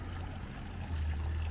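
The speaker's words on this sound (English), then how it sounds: "Yeah, I like this water fountain." A park water fountain splashes with a soft, continuous pouring and trickling at moderate distance, steady and fairly quiet, without any speech.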